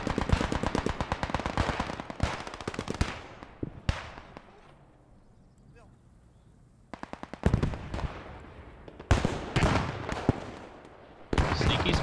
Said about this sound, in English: Sneaky spot from this MG here.